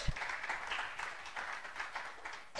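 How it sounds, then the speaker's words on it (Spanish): A church congregation applauds together in a steady wash of clapping, faint and somewhat distant, lasting the whole short stretch without a break. "Denle un aplauso al Señor"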